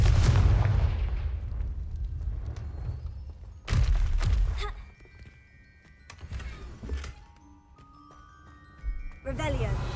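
A Confringo fire spell blasting in the Hogwarts Legacy video game, a loud booming explosion that decays, followed by further impacts, chimes and game effects, with a voice speaking.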